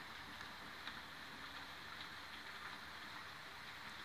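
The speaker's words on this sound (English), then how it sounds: "Yep, it's raining and thundering. Well, not thundering, but like heavy rain." Heavy rain falls in a steady, dense hiss of drops at night, constant and fairly faint throughout with no other sounds standing out.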